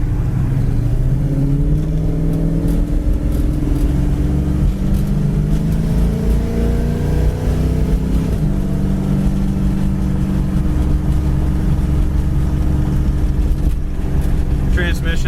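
A 1973 Dodge Challenger Rally muscle car idles and revs steadily for about fifteen seconds. The rumble is loud and close, pitch rising and falling with the throttle, and a voice talks faintly underneath.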